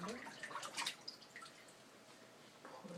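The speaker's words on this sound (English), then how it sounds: "Pour it in slowly as best I can." Water being poured slowly back into an aquarium tank with fish, gravel and decorations, a faint trickling and dripping splash that tapers off, quiet and close with no talking.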